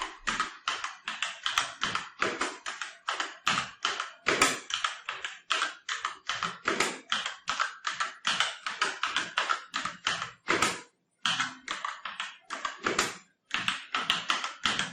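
Continuous fast typing on an Asus TUF Gaming K3 mechanical keyboard with red linear switches, close and crisp, dense clacking keystrokes with a couple of brief pauses and no talking.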